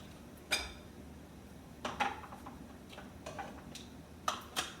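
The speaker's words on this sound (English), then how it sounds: "I will clean the rim of these glasses, these jars rather, so that I know that they're going to have a good seal" Glass canning jar rims wiped clean while candied jalapeño peppers are being canned, giving a few sharp, light glassy clinks and ticks spread irregularly through a quiet room.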